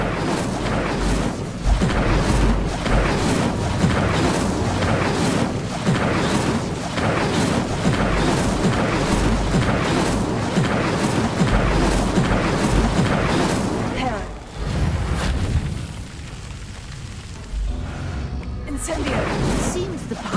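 Incendio fire spells are cast over and over in the Hogwarts Legacy video game, a dense run of loud booming, bursting blasts in quick rhythm, with a voice talking over them in places.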